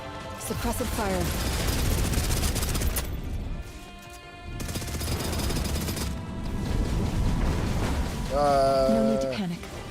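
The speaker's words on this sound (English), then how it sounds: "Suppressive fire." Rapid suppressive gunfire in the shooter game Snowbreak: Containment Zone, dense bursts of automatic shots rattling loudly for several seconds with a short lull, then resuming as a voice speaks near the end.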